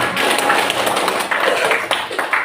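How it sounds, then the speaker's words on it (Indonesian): A classroom group clapping their hands together, dense overlapping claps forming a loud continuous patter close by, with a few sharper accents throughout. "Oke, tepuk tangan."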